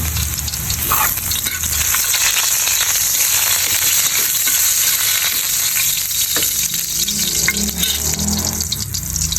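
Garlic sautés in a heated pan for Filipino kinamayisang tahong (mussels), giving a loud, steady sizzle and crackle throughout with occasional stirring scrapes and no talking.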